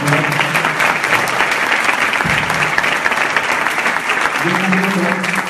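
Sustained applause from an audience welcoming the guest speaker at a university conference, a dense, steady wash of clapping throughout with a few low voices mixed in.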